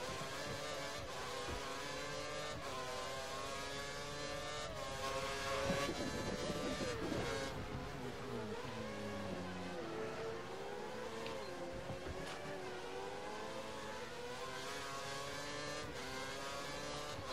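Race car engine from the F1 2013 video game, a high-pitched whine that rises and falls through gear changes and corner exits, revving up, dropping, then climbing again, steady and close with no voices.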